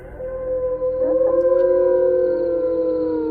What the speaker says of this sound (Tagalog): marinig ko ang malakas na alulong ng aso